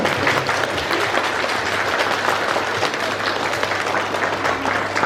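A school hall crowd gives loud, dense, sustained applause as a school year closing ceremony is declared over, with many hands clapping evenly and close throughout.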